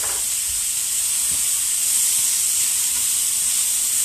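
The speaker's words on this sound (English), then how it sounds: "that sizzling sound." Steady loud sizzling of leftover pork frying in a hot pan, a continuous bright hiss with faint clinks underneath, no voices.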